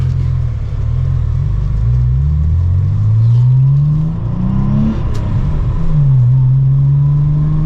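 An air-cooled Porsche is driven, its engine rising in pitch and dropping at each gear shift, loud and close throughout.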